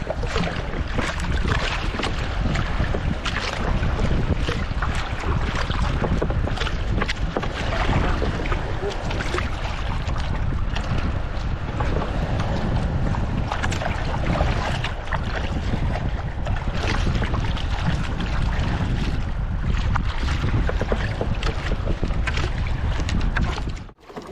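Steady rough wind and water noise from a small wooden boat being paddled, with faint splashing beneath a constant roar, no clear voices.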